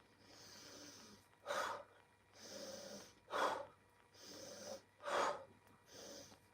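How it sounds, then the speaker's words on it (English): Slow, deep breaths during a qigong exercise: three long inhales, each followed by a sharper, stronger exhale in an even rhythm, heard close and quiet. "Breathe in, exhale, flick."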